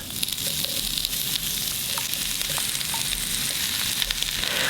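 Shrimp and sliced onions stir-frying in a hot pan give a loud, continuous close sizzle, with faint scattered utensil knocks and no voices.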